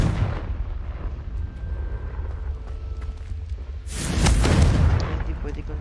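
A Confringo fire spell from the video game Hogwarts Legacy erupts in a loud burst of explosive noise midway through, following a stretch of busy game ambience with some voice present.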